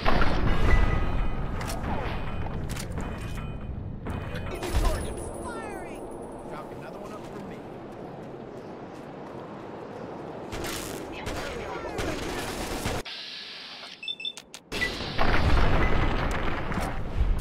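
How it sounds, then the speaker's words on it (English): Gunfire in the game Fallout 3: bursts of shots and booms, loud at the start and again near the end, with a quieter stretch between, while a player talks over the action. "I shot him out of the air."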